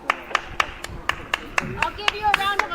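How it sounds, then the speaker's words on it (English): Hands clap in a steady round of sarcastic applause, about a dozen sharp, evenly spaced claps close to the microphone, with a voice talking briefly underneath. "I'll give you a round of a fucking applause"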